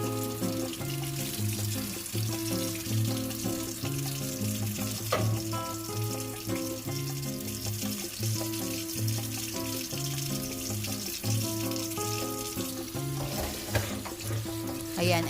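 Boiled macaroni water poured off into a kitchen sink, a continuous rushing splash and gurgle heard under steady background music throughout.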